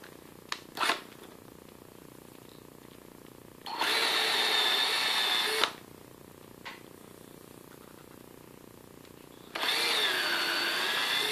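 A power drill bores a starter hole for a screw through a wooden board, two steady whining bursts of about two seconds each separated by quiet handling clicks, close and clear with no voices.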